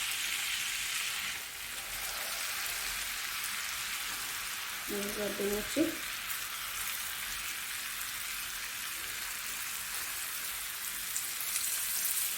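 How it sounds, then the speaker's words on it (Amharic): Flour-coated chicken fries in butter and olive oil with a steady, soft sizzle and crackle like light rain, moderately close, and a brief spoken word partway through. "ከዛ በዱቄት ያገላበጥነውን ዶሮአችንን አምጥተን እንደዚህ እንጠብሳለን"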